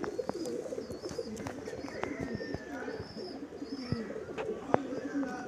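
Low, rolling coos from a Madrasi pigeon repeat throughout, joined by scattered higher chirps and small clicks and knocks nearby.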